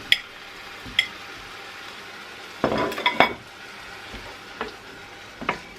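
Seitan goes into a cooking pan with scattered clinks and scrapes of a utensil against the pan over a soft background hiss, including a brief cluster of louder knocks midway.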